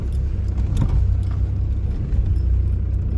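Car driving toward an old German settlement, a steady low engine and road rumble from inside the vehicle, continuous and moderately loud with no talk.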